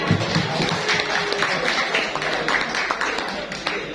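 Audience applause at a book launch event for a geology alumni book, steady dense clapping filling the hall throughout, with faint voices mixed underneath.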